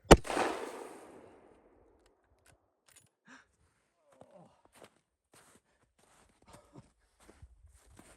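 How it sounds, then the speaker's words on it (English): A single .338 rifle shot fired at extreme long range at the very start rings out sharply, then rolls away in a long, fading echo. Soft, scattered footsteps and small movement sounds follow in near silence. "so we're at extreme long range right now with the 338"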